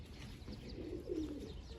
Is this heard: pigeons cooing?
yes